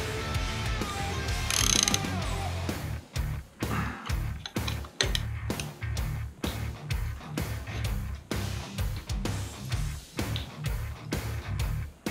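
Ratchet clicking steadily in quick repeated bursts while tightening mirror extenders on a Harley-Davidson Sportster, close and fairly loud, with no talk.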